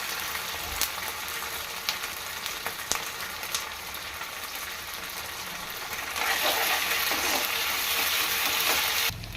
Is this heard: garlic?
yes